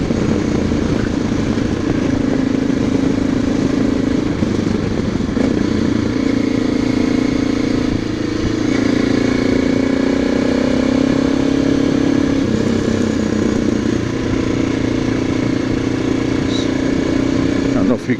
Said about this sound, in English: So I'm really riding an Aprilia with a BMW badge on it and a Czechoslovakian motor